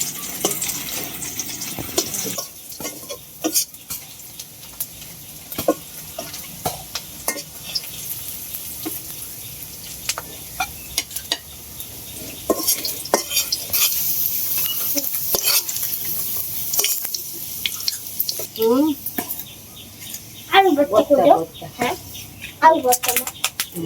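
Onions and dried chillies frying in a pan with stirring, a steady close sizzle broken by scraping spatula strokes, with a voice talking at times over the cooking.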